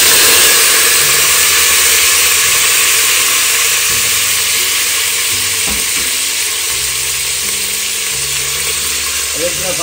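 A pot of Sri Lankan eggplant milk curry with curry leaves gives off a loud, steady sizzling hiss close by, with faint bubbling underneath that barely changes.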